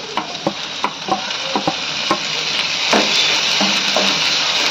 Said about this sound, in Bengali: তো পেঁয়াজটা লাল হয়ে এসেছে, এবার এর মধ্যে আমি টমেটো কুচিগুলো দিয়ে দিলাম।